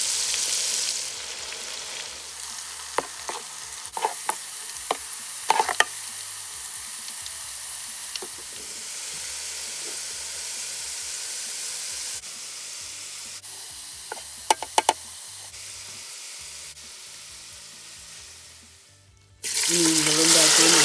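Bitter gourd fries in oil with a steady, moderately loud sizzle lasting most of the stretch, broken by occasional utensil clinks, and the sizzle swells sharply near the end.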